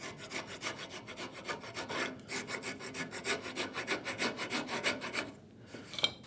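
A hand rasp rounds the hand hole of a wooden saw handle in quick short strokes, a rapid rhythmic scratchy rasping heard up close, pausing briefly near the end before a final stroke.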